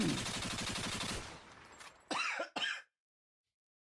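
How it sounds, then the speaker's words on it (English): Two sharp, close coughs in quick succession follow a burst of loud noisy sound, then silence. "I can't stop this dang cough."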